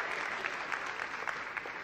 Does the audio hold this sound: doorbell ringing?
no